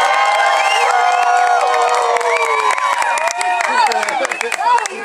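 A large crowd cheers and whoops loudly with scattered clapping, excited shrieks rising and falling continuously across the whole stretch.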